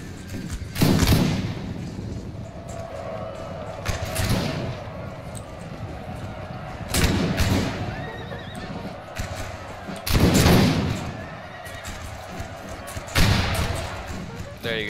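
Musket volleys in the video game Napoleonic Total War 3 crack out at steady intervals of a few seconds. Horses whinny and hooves thud in between, and a faint voice talks underneath.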